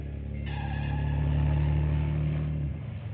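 A car engine hums steadily and swells louder as the vehicle passes near, then the sound cuts off abruptly near the end.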